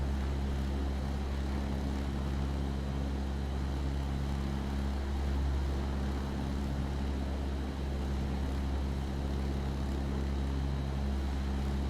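A propeller airplane engine drones in a flight simulator, a steady loud hum with a low throbbing tone that runs unchanged the whole time, alone.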